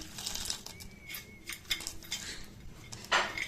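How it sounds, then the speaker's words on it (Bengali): A spoon mixing ground roasted nuts and sugar in a pot for payesh, irregular light metallic clinks and scrapes, close and fairly quiet. "এখন আমরা এগুলোর ভিতরে কিছুটা ভেজে নেওয়া গুঁড়ো করা বাদাম আর চিনি মিশিয়ে নেব"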